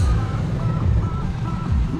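A Citroen car rolls in to a vintage vehicle rally in Rusinowice, a steady low engine rumble close by among other arriving vehicles, with continuous outdoor noise and no clear speech.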